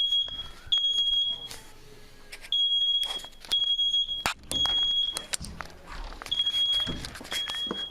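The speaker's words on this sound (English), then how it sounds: "set off the smoke alarm of that whole building, and now it's going off in the hallways" A building smoke alarm set off by cooking shrieks in repeated high-pitched bursts, also sounding in the hallways, broken by short gaps, with footsteps and bumps moving around nearby.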